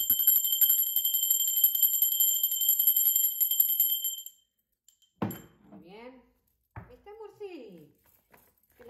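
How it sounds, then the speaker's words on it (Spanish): A bell rings rapidly and continuously for about four seconds, bright and metallic, then cuts off abruptly, followed by someone speaking. "Va campana."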